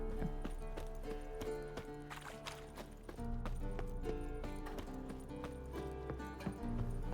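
Hooves of Roach the horse clip-clop steadily in The Witcher 3: Blood and Wine, a rhythmic trot under layered game music, fairly close and continuous, with no one speaking.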